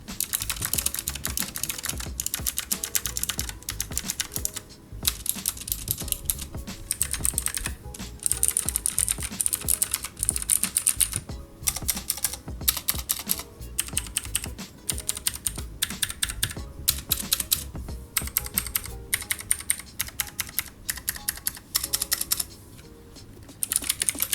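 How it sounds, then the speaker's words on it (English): Rapid, continuous clacking of a Cosmic Byte GK14 wireless mechanical keyboard recorded up close, sharp key strikes in steady bursts with brief pauses, no voices. "Let's see how this keyboard sounds."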